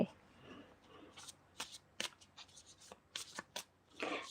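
Tarot cards are shuffled up close, giving quiet papery riffles and several sharp slaps in an irregular rhythm, with faint room tone and no clear talk.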